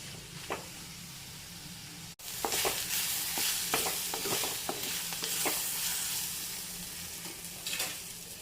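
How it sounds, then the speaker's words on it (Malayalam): Sliced okra and onion sautéing in a pan, a steady soft sizzle with scattered scraping and stirring clicks from a utensil, close and fairly quiet, no talking. "വെണ്ടയ്ക്കയും സവാളയും നല്ലതുപോലൊന്ന് വാടി വരട്ടെ"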